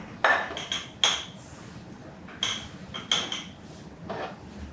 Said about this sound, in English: So we'll take the rest of our apples, slide them into our little pot.